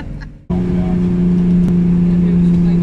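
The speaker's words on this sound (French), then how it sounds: "Là, le moteur fait un bruit d'enfer." A car engine roars loudly as it labours up a hill on the road to Tikal. The deep, steady drone kicks in abruptly and holds close and strong, with a voice faintly audible beneath it.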